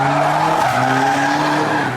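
At a Japanese drift day, a van slides sideways with tires skidding in a loud, sustained squeal over a droning engine, holding steady for the whole moment.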